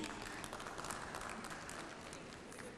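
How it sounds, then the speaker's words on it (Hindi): An audience claps steadily at an association installation event, a continuous even wash of applause that is fairly faint and sounds somewhat distant. "तालियां बजानी तो खुल के बजाओ"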